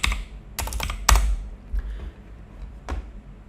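Close, clear bursts of typing on a computer keyboard as a command is entered, with a few quick clusters of keystrokes and short gaps between them and no talking.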